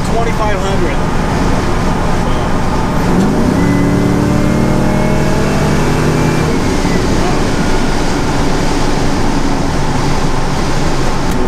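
A 1967 Camaro fitted with an LS6 V8 cruises down the road, its engine note swelling as it revs up through a gear, with steady road rumble throughout and someone talking over it.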